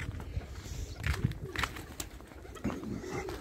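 Pigeons coo in a loft, soft throaty calls layered over a dense, rustling background, with no clear speech.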